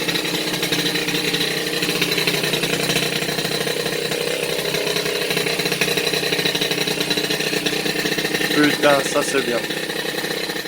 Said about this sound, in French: le petit moteur Bidalo a enfin pris vie